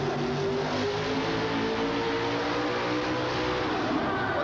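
Monster truck engine at a 1989 USHRA event in Hartford, a loud continuous roar with harmonic bands that eases off, then comes back on throttle and climbs, heard steadily throughout with crowd-like wash.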